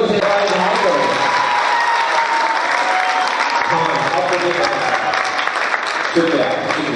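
Sustained audience applause at a Urdu poetry gathering fills the hall, loud and dense throughout, with a voice speaking faintly over the clapping.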